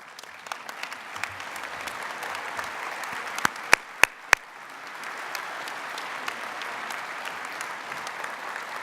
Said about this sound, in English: Consider this applause our thanks